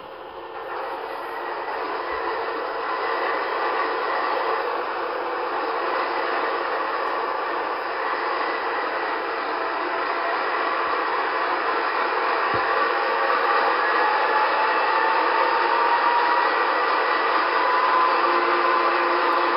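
A steady broadband hum and whir of a Märklin model ES44AC BNSF diesel locomotive's engine sound starting up, constant and moderately loud throughout with no talking.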